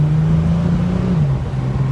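A 1969 Mercedes 280S pulls away from a fast start, its engine note holding steady and then dropping slightly as it goes on, a loud, close, short burst of engine sound.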